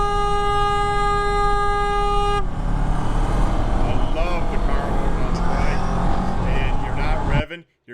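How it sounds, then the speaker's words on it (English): Horn on a motorcycle sounded in traffic: a loud, sustained toot for a couple of seconds, followed by close road and engine noise with voices over it. "You're using your horn."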